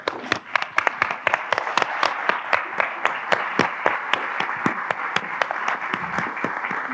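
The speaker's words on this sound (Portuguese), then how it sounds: "peço-vos uma salva de palmas para ela" Audience applause welcomes a guest at a literary talk event, a crisp, sustained patter of individual claps close by, fairly even in rhythm before thinning slightly at the end.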